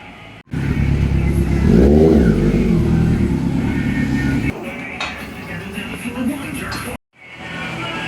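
A Kawasaki Z900 motorcycle engine revs loudly up close, rising and holding a throaty roar before dropping off, then picking up again.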